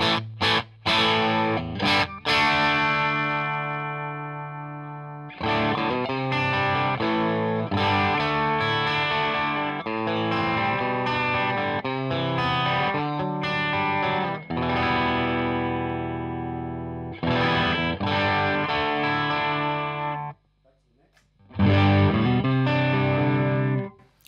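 Electric guitar played through a Boss BD-2 Blues Driver overdrive pedal on the bridge pickup, giving loud, bright, crunchy distorted chords and riffs in sustained phrases broken by short pauses.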